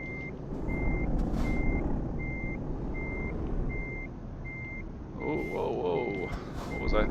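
A truck in the video game Euro Truck Simulator backs up, giving off a steady series of evenly spaced reversing beeps over a low engine rumble, with a brief hiss near the end.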